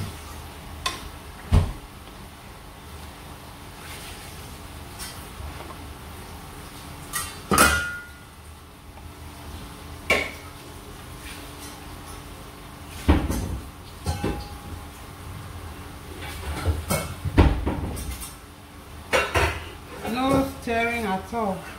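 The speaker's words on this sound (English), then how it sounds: "just gently shift the pieces of fish so the tomatoes can get to the bottom of the pot" A pot of palm oil tomato stew with fish, garlic, ginger and onion is gently stirred as fish pieces are shifted, with scattered clanks and scrapes of utensil on pot amid quiet kitchen noise.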